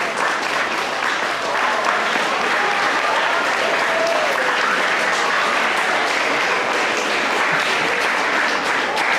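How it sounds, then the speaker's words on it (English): Sustained applause from an audience at a senior presentation, a dense wash of many hands clapping at an even level, fairly loud and continuous from start to finish, with no talk over it. "My participants would please stand up and give them a round of applause."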